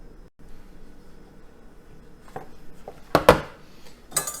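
A fork scrapes and taps as it presses pie crust into a pan for a Texas mud pie, with a low quiet scuffing, then a few sharper clattering knocks near the end.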